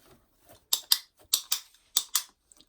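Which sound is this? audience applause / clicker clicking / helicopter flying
clicker clicking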